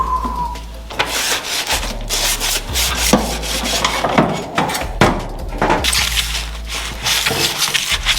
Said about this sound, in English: I'm sanding these